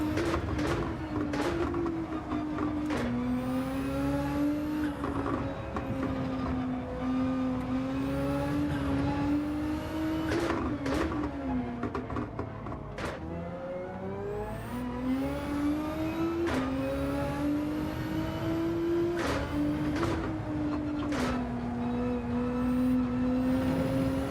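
Group 3 race car engines in Gran Turismo 7 drone loudly through the whole stretch, climbing through the revs and dropping sharply at each gear shift, while other cars snarl nearby.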